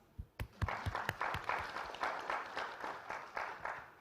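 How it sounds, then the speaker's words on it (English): An audience at the Wolves Summit 2023 pitch contest finals breaks into applause, with a few sharp early claps swelling into steady, moderately faint clapping that continues throughout. "Once again, round of applause."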